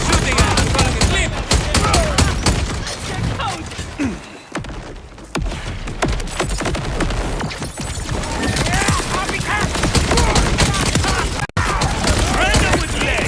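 Gunfire in the video game Borderlands 4 comes as loud, dense bursts of rapid automatic shots, nearly continuous with brief gaps, mixed with in-game effects.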